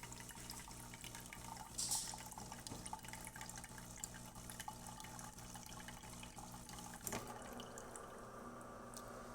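A DeLonghi Eletta Explore coffee machine runs its rinse cycle: water trickles and drips under a low, steady pump hum. The sound shifts abruptly near the end as the flow changes.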